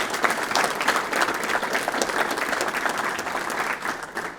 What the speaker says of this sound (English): Well, a round of applause for Caden,